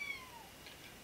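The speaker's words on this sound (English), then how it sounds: "And excuse this cat" A small kitten rescued from a road meows faintly in a room, one thin, high, short cry at the start over a quiet background.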